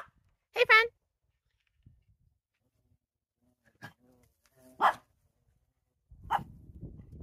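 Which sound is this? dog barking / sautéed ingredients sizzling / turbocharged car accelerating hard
dog barking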